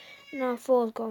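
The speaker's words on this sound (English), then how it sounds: "My cats are meowing." Pet cats meowing indoors, several clear rising-and-falling meows in quick succession, overlapping a man's speech.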